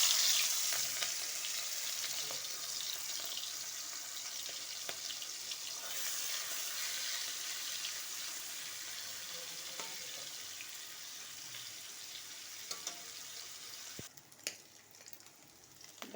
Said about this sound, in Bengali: তেল গরম হয়ে গেছে, এবার এগুলো ভেজে নেব